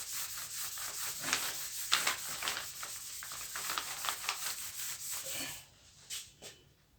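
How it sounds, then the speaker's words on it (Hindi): An object rubbed back and forth against a surface, making a steady scratchy friction sound with uneven strokes that stops near the end, close and moderately loud, with no speech. "इसको रब करता हूँ।"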